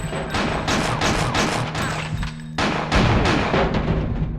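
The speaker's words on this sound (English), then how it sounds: "I just eventually take them out with dual pistols" Rapid bursts of dual-pistol gunfire from the video game Fear Effect 2 as robots are shot down, dense repeated cracks with a sustained tonal hum, loud and continuous with no talk.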